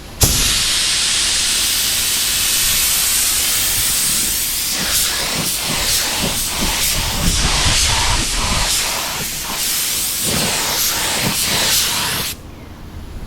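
A spray gun loaded with Rustoleum gloss turbo paint sprays in a loud, steady hiss for about twelve seconds, broken by faint rhythmic pulses, then cuts off abruptly.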